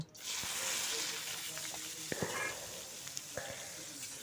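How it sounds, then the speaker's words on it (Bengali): Sattu flour sizzling as it fries in hot oil in a pan, a steady hiss with scattered pops and stirring clicks, close and moderately loud, with no voices. "এই যে ছাতুগুলো দিয়ে দিলাম তেলের মধ্যে, দিয়ে বেশ ভালো করে কিছুটা ভেজে নেব"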